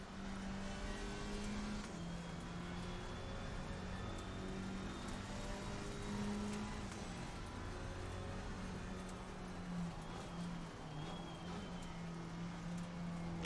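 A small race car laps the Barcelona circuit, its engine droning steadily and loudly throughout with a continuous, close in-car tone and shifting pitch bands.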